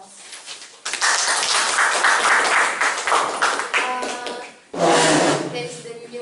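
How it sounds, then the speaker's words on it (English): Bursts of hand clapping from a small group, starting after a quiet moment, pausing briefly, then resuming with voices mixed in. "Please give applause"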